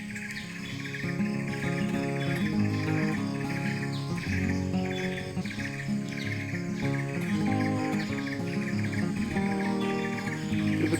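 Many kinds of birds flock to a heavily fruiting banyan tree in Riau, their overlapping calls and chirps forming a continuous, layered chorus at steady moderate loudness.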